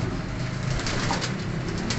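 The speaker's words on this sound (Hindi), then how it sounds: "इसी सीजन में पकड़े हुए इनमें ज्यादातर कबूतर है" Flying pigeons kept in a loft in Faisalabad coo steadily and softly in a low, continuous murmur. Faint rustling sits underneath, and no one speaks.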